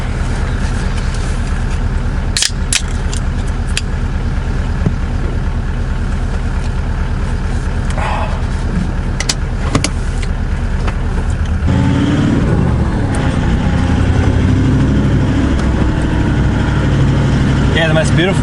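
A 4WD on 33-inch tyres drives along a sandy forest track on Fraser Island, its engine giving a steady loud drone with rumbling low noise and a few knocks, and the drone grows heavier partway through.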